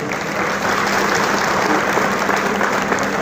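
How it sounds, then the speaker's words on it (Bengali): Audience applause at a civic reception honouring a newly elected legislator, a dense, steady clapping from a crowd filling the room, loud and continuous throughout without any speech. "আসুন আমরা সম্মিলিত করতালিতে তাকে আজকে অভিনন্দন জানাই।"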